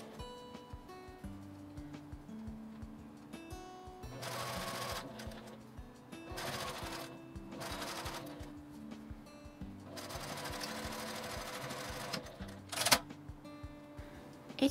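A sewing machine stitches the back slit of a doll's kimono, running in several bursts of steady mechanical whirring with short pauses between them, over a faint background hum.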